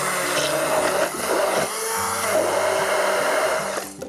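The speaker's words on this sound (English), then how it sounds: "And I'm going to blend them to get them into a nice puree." A blender purees raspberries and tinned peaches in natural fruit juice, whirring loud and close in steady bursts with brief dips and shifts in pitch as the fruit breaks down.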